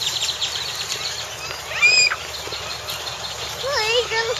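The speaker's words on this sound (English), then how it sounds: "Wow, listen to all the bird sounds." Scattered bird calls and chirps sound faintly from a distance at a highway rest stop, over a low steady background, with a few whistling notes toward the end.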